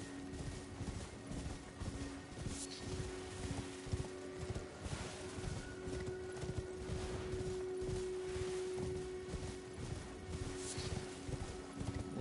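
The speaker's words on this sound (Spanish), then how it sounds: "Soy un caballo." A horse's hooves clip-clop at a steady trotting rhythm as it carries a rider in the video game Elden Ring. The footfalls are fairly quiet and hold a regular beat, with a faint hum underneath.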